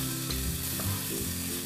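Chicken fillet sizzles steadily in a hot frying pan while a French chicken fricassee is cooked. The frying is continuous and close, with a few soft stirring knocks and no talking.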